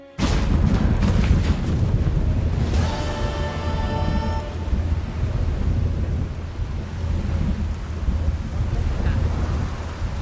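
Steady roar of heavy rain and rumbling thunder in the video game The Witcher 3: Wild Hunt, with a brief tonal swell in the middle, continuous and loud throughout.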